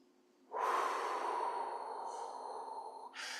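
One long, deep breath drawn in close to the microphone for meditation, a steady airy inhale lasting about three seconds, alone with no talking.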